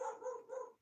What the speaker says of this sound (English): If you hear a dog is barking,